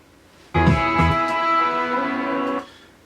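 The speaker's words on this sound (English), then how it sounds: "It's just a verbed out guitar." A short electric guitar lick rings out alone, a few plucked notes swelling into a long, washy reverb tail before cutting off.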